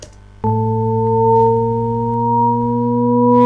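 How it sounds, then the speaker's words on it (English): A stack of pure sine-wave tones sounds together, four octaves apart, holding steady and gliding slowly upward in a smooth, continuous Shepard tone drone. "Starting to sound like a Shepard's tone if you've ever heard one."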